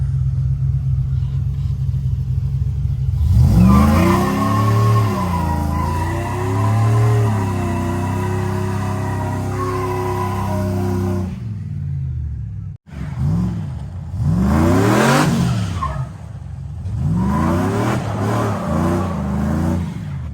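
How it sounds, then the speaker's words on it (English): A boosted, cammed truck pulls hard in second gear, its engine climbing in a loud, rising roar, then dropping away at a sharp gear change before revving up again in surging, wavering pulls, heard from close inside. "this is that second gear pull I did"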